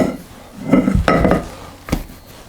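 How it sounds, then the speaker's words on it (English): A soft lump of St Lucia bun dough thuds back into a bowl, with a few muffled bumps and a scrape against the bowl, close and brief, with no talk. "I'm actually just going to put it back in the bowl for a minute"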